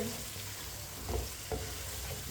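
Peas and cauliflower fry in a pan on a medium flame, with a steady sizzle and a couple of soft spoon-stirring scrapes near the middle. No one speaks.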